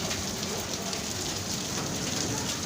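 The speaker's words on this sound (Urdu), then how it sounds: "اور یہاں پہ بہت ہی تیز ہوا کے ساتھ بارش" Heavy rain driven by strong wind pours down in Islamabad, a dense, steady roaring hiss that stays loud and unbroken throughout.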